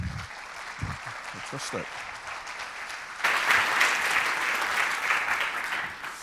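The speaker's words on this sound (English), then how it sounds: "can we have a big round of applause for your panel today?" Audience applause for a three-person panel at a business talk on learning analytics, a dense broadband clatter that swells louder halfway through and carries on steadily, with a brief spoken word from the host near the start.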